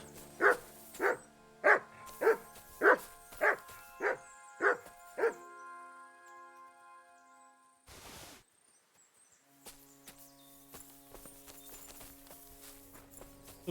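Dog in Kingdom Come Deliverance 2 barking a rapid series of about nine loud, evenly spaced barks, followed by quieter game ambience with a brief rustling burst.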